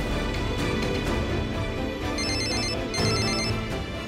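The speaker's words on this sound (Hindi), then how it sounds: "रिंग जा रही है।" An outgoing phone call rings in a family drama, repeated electronic ring bursts sounding steadily over a soft background score, with no voices.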